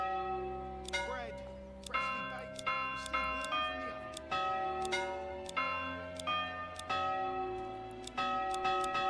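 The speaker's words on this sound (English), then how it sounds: "Oh, we gotta change the church bell sound." Church bells ring in the medieval city-building game Manor Lords, bright metallic strikes repeating about once a second and each leaving a long humming decay that overlaps the next.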